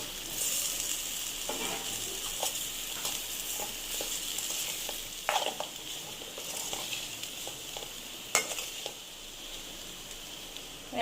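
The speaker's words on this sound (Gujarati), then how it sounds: "હવે જે બટાકા આપણે કટ કરીને રાખ્યા છે ને એ એડ કરી દઈશું." Cut potatoes sizzling and frying in spiced oil for a dry potato bhaji, a steady crackling hiss with occasional sharper pops and stirring clicks throughout.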